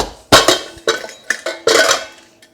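A metal pressure cooker of cooked moong dal is handled and opened, giving a run of loud close metallic clanks and rattles of the lid, separated by short pauses, with no talking.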